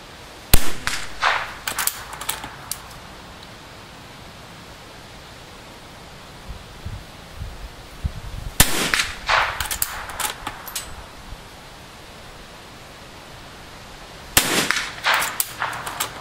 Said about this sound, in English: now we'll give the Mossberg a shot